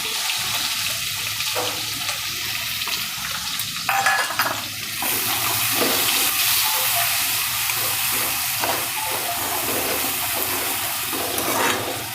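Steady crackling sizzle of onions frying in hot oil with ginger-garlic paste, continuous and close, with a few clinks and bumps partway through and no talking.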